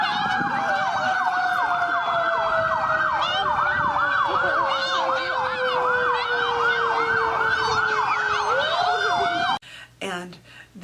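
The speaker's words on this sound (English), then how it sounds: "when the fire truck came up, it had its sirens on" A fire truck's siren wails loud and near in rapid rising-and-falling sweeps, repeating steadily for about nine seconds before stopping abruptly, followed by brief muffled knocks.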